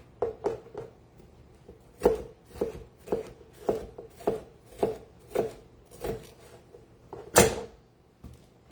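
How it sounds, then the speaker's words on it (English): A knife slices bell peppers into strips on a cutting board, about a dozen crisp, evenly paced chops close up, with one louder thud near the end and no talking. "I'm gonna just slice these like this, like into strips"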